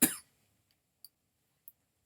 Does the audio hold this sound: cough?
yes